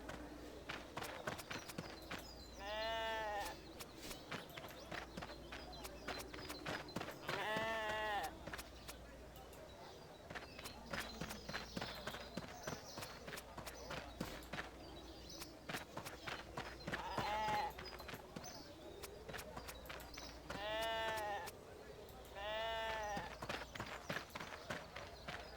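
Sheep in the RuneScape video game bleating while being sheared, several distinct bleats spaced across the stretch amid clicking footsteps and quiet game ambience, with someone talking over parts of it.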